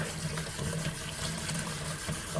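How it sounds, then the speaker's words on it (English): Cold water running from a tap into a sink, a steady close gushing stream with low burbling as the basin fills, continuous and even with no voices. "you want to fill your sink up with water, cold water"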